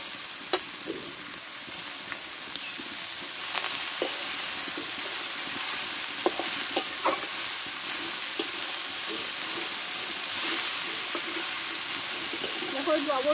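Washed, chopped water spinach tipped into a pan with potatoes and turmeric, frying with a steady sizzle, scattered clinks and stirring scrapes of a spatula, and occasional faint voice in the background.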